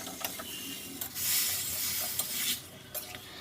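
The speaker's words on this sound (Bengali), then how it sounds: "এবারে আলুগুলোকে যে ভেজে রেখেছিলাম সেই আলুগুলোকে এবারে ভালো করে কষিয়ে নেবো" Fried potatoes are stirred with spices in a kadai for vegetarian aloo dum. A spoon scrapes and knocks against the pan in short strokes over a steady close sizzle that swells in the middle, with no talking.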